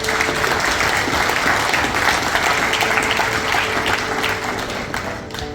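A hall full of seminar attendees applauding with sustained, dense, loud clapping that holds steady for several seconds and then begins to taper off near the end.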